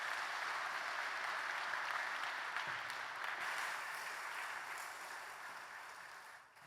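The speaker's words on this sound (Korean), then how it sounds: "큰 박수 보내주십시오." A church congregation in Ulsan applauding after a baptism during Sunday worship. Broad, sustained clapping fills the room, holding steady before gradually tapering off at the end.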